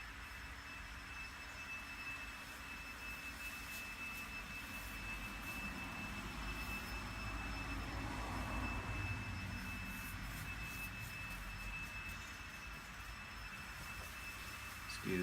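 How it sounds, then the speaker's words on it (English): A leaf blower runs in a neighbor's yard, heard from inside a garage as a steady, distant, broadband roar that swells slightly midway and continues without pause, with no talking. "Excuse the blower in the background."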